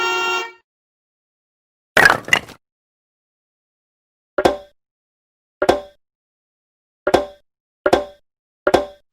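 A short taxi car horn honk sounds at the start, followed after a pause by a few sharp clicks and plopping taps spaced out between silent gaps.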